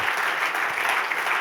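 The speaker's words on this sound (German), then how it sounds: "Geben wir ihnen einen richtig lauten Applaus hier aus dem Kalkofen raus." Applause rises from a church congregation in a hall, a dense, steady clapping that stays moderately loud for the whole moment with no voices.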